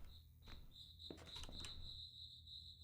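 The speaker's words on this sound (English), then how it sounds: "I hear crickets." Crickets chirp in a horror video game, a faint steady high trill that runs through the whole stretch with soft scattered game noises underneath.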